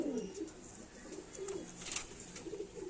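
A few soft, rolling pigeon coos come in short bursts from nearby Kalshira and Panja homing pigeons, with gentle pauses between phrases. Faint high twittering sits in the background and no one speaks.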